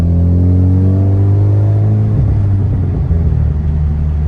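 A Honda Type R with a catalyst downpipe driving, its engine a loud steady drone that rises in pitch and then drops back as the car shifts and keeps cruising, heard from inside with no talk.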